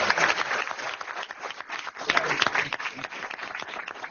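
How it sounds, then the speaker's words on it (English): An audience applauding steadily throughout, a dense wash of many hands clapping at moderate volume, with some voices mixed in. "So let's give them a round of applause."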